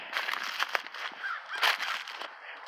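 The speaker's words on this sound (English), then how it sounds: "Shut up, crow." A crow caws repeatedly in winter woods, several harsh calls at moderate distance standing out over quiet forest ambience, with no talking.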